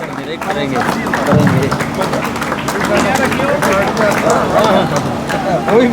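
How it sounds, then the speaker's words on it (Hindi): A village crowd claps loudly to welcome a guest being honoured with a turban at a political gathering, with dense, close applause and crowd noise mixed with talking voices throughout. "तालियों के साथ आप भी स्वागत कीजिए"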